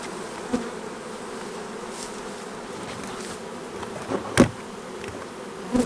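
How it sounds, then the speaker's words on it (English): Honey bees buzz around a long hive outdoors, a constant soft drone with individual bees zipping close past the microphone now and then. "You can see there's already bees flying around."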